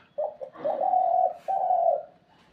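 A ghughu dove coos close by, a short soft note followed by two long, steady, hollow coos separated by a brief gap, loud and clear against a quiet background.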